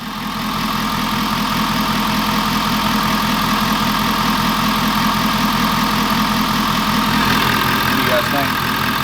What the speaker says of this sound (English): Sounds like truck.